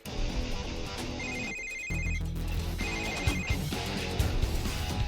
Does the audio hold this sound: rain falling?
no